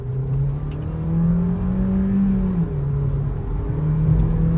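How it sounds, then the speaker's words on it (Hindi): A Volkswagen Virtus sedan accelerates in sport mode with traction control switched off. Its engine note is loud and droning, holding steady, then rising and dipping slightly as the revs change. The sound is continuous, with no talking. "गलती से गाड़ी मैंने डाल दी स्पोर्ट्स मोड में, उसके बाद फिर गाड़ी की पावर देखो आप।"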